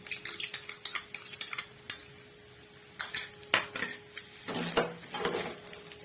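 Soy sauce and tomato sauce are stirred into chowmein, with a spoon clinking and scraping against the pan and bowl in sharp, irregular taps, then a denser burst of scraping and tossing toward the end.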